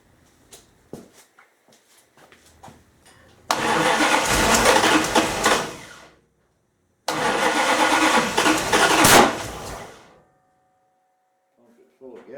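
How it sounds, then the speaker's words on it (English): A 1929 Chrysler 360 engine with an exhaust leak catches and runs in two loud rough bursts of several seconds each, cutting out between them, with a few brief clicks and cranking sounds before the first start. "Kind of sounds like an exhaust leak."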